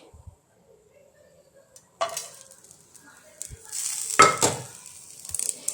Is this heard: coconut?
yes